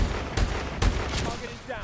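Call of Duty: Advanced Warfare team deathmatch gunfire, a few heavy shots and bursts sounding close and loud over a noisy battle backdrop.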